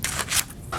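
Scissors snip through paper while a tail shape is cut out, making a few quick, close crisp cuts in under a second.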